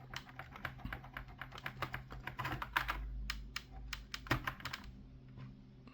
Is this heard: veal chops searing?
no